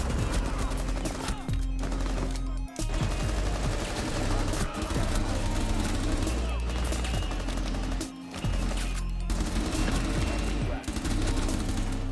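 Rapid strafe gunfire in a first-person shooter video game played with a Strike-Pack mod, dense continuous automatic shots with brief pauses, loud and mixed with game sounds.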